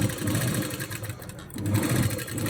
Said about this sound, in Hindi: एक सिलाई ऊपर से फिनिशिंग की हम यहाँ पे भी दे देंगे